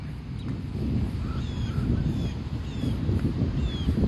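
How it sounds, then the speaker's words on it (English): Thin, faint bird chirps and whistles come and go over a steady low outdoor rumble in Washington, DC during cherry blossom season. "You can hear the birds singing."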